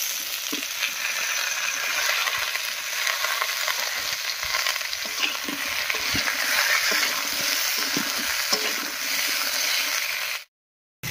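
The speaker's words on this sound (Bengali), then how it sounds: "ফুলকপি আলুর সঙ্গে পেঁয়াজ কলিটাও একটু ভাজা ভাজা করে নিয়েছি" Cauliflower, potato and onion stalks frying in a pan, a steady loud sizzle with scattered crackles and stirring clicks, alone with no voices, cutting off abruptly at the end.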